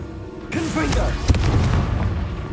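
A spell blast in the Hogwarts Legacy video game: a sharp booming burst followed by crackling, whooshing magical effects, up close and loud with no talk over it.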